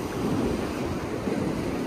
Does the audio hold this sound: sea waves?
yes